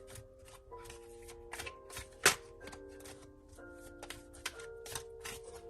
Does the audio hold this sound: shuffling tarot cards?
yes